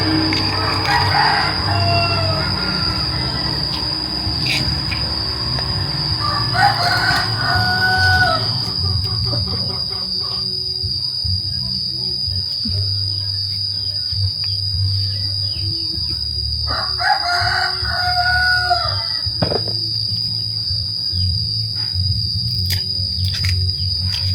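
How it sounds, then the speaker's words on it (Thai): Roosters crow repeatedly at a moderate distance over a steady, high insect drone, with a couple of separate crowing calls spaced apart. "โอ้เสียงไก่ฮอนฮอนแท้"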